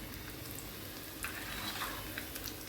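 Sindhi pakoras refried in very hot oil over a high flame, a steady, soft, continuous sizzle and bubbling with a few faint crackles, heard alone.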